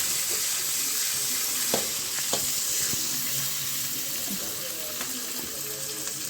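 A steady hissing sizzle of onions frying in a pan, with occasional clinks and stirring sounds throughout.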